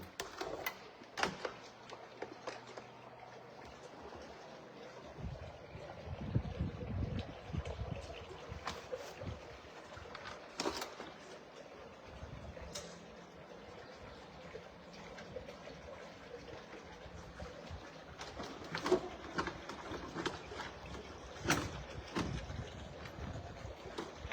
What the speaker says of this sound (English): here you can hear the water also